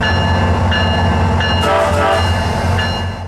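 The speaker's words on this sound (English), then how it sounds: "there was a switcher working CSX's Rand yard, which I was hoping would eventually make its way past the station" A CSX switcher locomotive rumbles loudly past the Sanford SunRail station, its steady engine drone and rolling wheel noise filling the whole stretch, with a brief horn-like tone in the middle.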